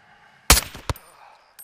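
Sniper rifle shots in Call of Duty: Modern Warfare 2 on a prison-break mission, with a sharp, loud shot cracking and echoing, then a second shorter report and a third starting at the very end.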